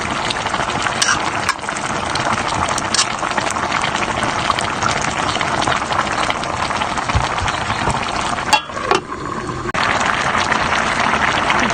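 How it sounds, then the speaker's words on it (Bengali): A pot of rui fish and cauliflower curry boils steadily, a dense, continuous bubbling and simmering that stays close and even, with a brief dip near the end. "মাছটা সিদ্ধ হতে হবে ভালো করে, তার জন্য আমি মাছটা দিয়ে দিলাম"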